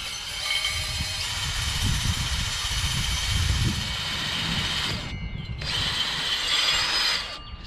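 A power tool whirs steadily and loudly up close while clearing rust from a Craftsman LT1000 lawn tractor, with two brief dips where the motor eases off before spinning back up.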